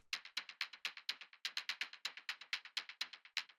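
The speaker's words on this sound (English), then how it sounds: "Next thing I have here is this click, or are these clicks, whatever you want to say. They sound like this." Clicks synthesised from white noise with very short envelopes in Ableton Operator tick in a fast, slightly irregular rhythm. They sound bright, crisp and fairly quiet, alone with no voices.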